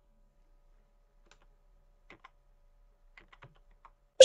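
A computer keyboard's arrow keys are tapped a handful of times, sparse and quiet clicks in a near-silent room, ending with a louder click, while a braille embosser is being set up to print a document.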